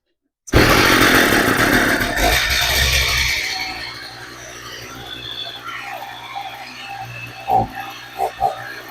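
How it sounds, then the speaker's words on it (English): An Echo string trimmer with a previously seized engine roars loudly at full throttle, then drops to a steadier, quieter idle while it keeps running, with a few sharp knocks near the end. "We'll give it 1 more pump of fuel. Choke on. Give it a little bit of throttle."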